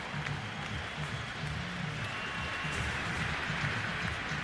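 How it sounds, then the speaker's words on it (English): Baseball fans in a packed stadium stand and applaud during a 2003 playoff game at Fenway Park, a steady, dense wash of clapping and crowd noise that holds at an even level throughout. "They're standing and applauding."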